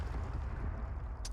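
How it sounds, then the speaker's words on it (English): Explosion sound effect, a sustained low rumbling blast roaring through the whole moment, ending with a brief sharp crackle. "The explosions rip through the hall with a force unlike anything I've ever felt before."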